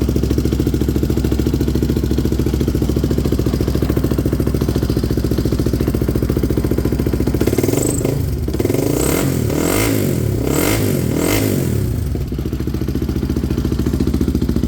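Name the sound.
Polaris 450 Outlaw ATV engine running and revving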